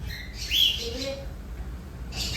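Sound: cockatiels chirping

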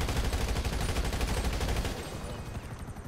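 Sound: gunfire in GTA 5 Online, video game

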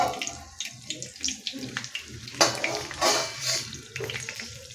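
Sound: alu vadi frying in a pan

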